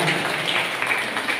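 An audience at a tailoring valedictory ceremony in Kurnool claps steadily, a dense, loud wash of applause that carries through the whole short stretch with no break.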